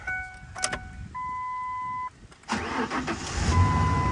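A 2001 Mazda B3000 pickup engine cranks and catches after a few electronic chimes, then settles into a steady idle nearby.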